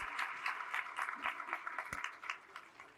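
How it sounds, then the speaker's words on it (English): An audience at an awards banquet applauds the logistics team and volunteers, soft and somewhat distant, with the clapping gradually thinning out toward the end. "Please join me in giving our logistics team and volunteers a round of applause."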